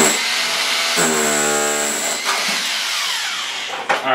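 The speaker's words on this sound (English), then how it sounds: "Put the power drill into the power button." A power drill whines steadily at high pitch while destroying a Dell computer, its motor tone rising and shifting as it runs continuously, loud and close.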